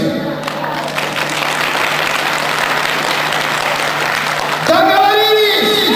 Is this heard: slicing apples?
no